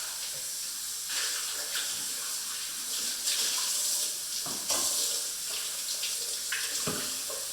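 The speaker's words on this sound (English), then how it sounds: "I'm going to dump it out and rinse it." Water runs and splashes as a Vitamix blender container is rinsed out at the sink, a steady close wash with brief bursts and knocks of the jug.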